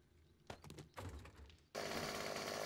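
Chainsaw in the video game 7 Days to Die starting with two sputtering pulls, then catching into a loud, steady, buzzing idle that runs continuously to the end.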